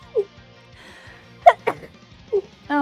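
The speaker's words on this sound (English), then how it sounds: "Oh no. I sneezed on this." A quick, sharp sneeze bursts out amid soft kitchen clatter and brief vocal sounds, followed by a short exclamation.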